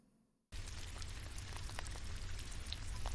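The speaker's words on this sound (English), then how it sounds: "Sounds like rain." Steady rain pattering on a surface in a played recording, a dense, even hiss with scattered drop clicks that starts abruptly after a moment of quiet and continues throughout.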